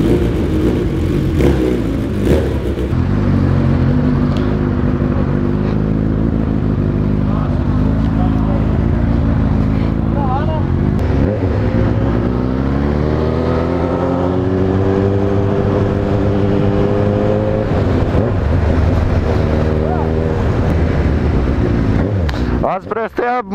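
Honda CB 1000 motorcycle, repainted entirely pink, heard riding nearby: a loud steady engine drone with rising and falling revs and gear changes that sweep up in pitch, with talk over the motor.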